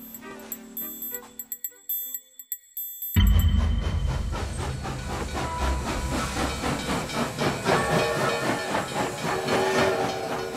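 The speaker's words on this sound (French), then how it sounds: "l'air du temps est rythmé par le panache des machines à vapeur" Steam locomotive machinery from 1885 in the Baie de Somme setting, hissing and chuffing loudly with a busy rhythmic texture after a quiet, sparse opening.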